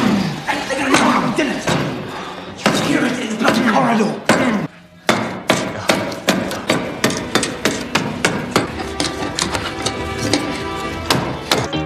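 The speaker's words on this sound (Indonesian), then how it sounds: "Akhirnya, Leo menghancurkan kuncen pintu dengan pahatnya." A chisel hammered against a door lock to break it, loud sharp repeated strikes in a steady rhythm with a brief pause in between, while a voice talks over the blows.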